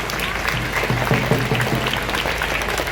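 An audience at a Varanasi event breaks into steady applause, a dense patter of many hands clapping at moderate loudness, with a voice briefly rising over it in the middle.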